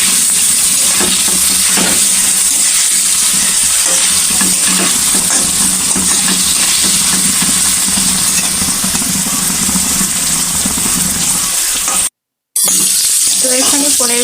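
Paneer cubes seasoned with turmeric sizzle loudly in a pan while being stirred, a constant frying hiss with scraping stirring strokes and one brief dropout near the end.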